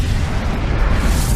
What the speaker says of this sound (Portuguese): Ela faz simplesmente BAM!